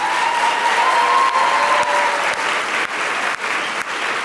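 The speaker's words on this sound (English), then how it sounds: "How about one more round of applause for the class of" An audience at a senior awards ceremony gives the class of 2014 a round of applause, a dense, steady clapping that holds at an even, loud level throughout, with some crowd noise mixed in.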